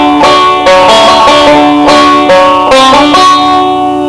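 A banjo plays a short picked pattern over and over, bright open-string notes ringing loud and close in a steady rhythm.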